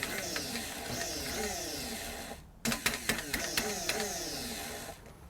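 A blender grinding harissa spices pulses on and off, whirring motor bursts that rise and fall in pitch, a short pause, then more choppy start-stop spins.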